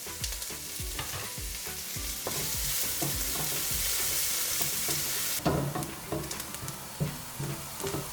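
Onions frying in a pan with cinnamon and bay leaf for an old-school 80s-style curry, with steady sizzling, scraping stirs and clacks of a spoon against the pan, loud and close with no talking.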